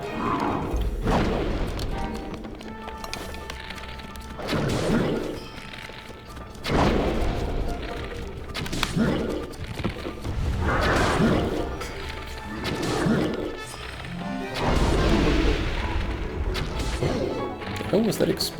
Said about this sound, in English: What was that explosion thing?